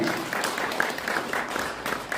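Audience applause at an academic seminar, a steady, moderately loud wash of clapping from a seated crowd that holds evenly throughout with no distinct voices.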